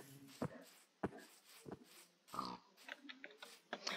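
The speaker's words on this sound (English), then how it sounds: "maybe it was just the pigs" Pig grunts from Minecraft, a few short snorting oinks at irregular intervals, fairly quiet, mixed with other faint game sounds and no talking.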